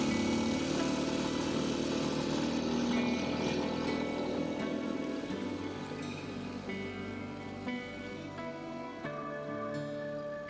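Kawasaki KLX230 dirt bike riding on a trail with patches of snow, its single-cylinder engine droning loudly and continuously with fluctuating revs and gear changes, close up and with no speech.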